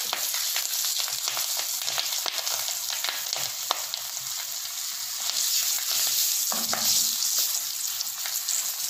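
Fennel powder, slit green chillies and cashews fry in hot oil in a pan for chana masala, giving a continuous close sizzle with intermittent clinks and scrapes of stirring; no talking.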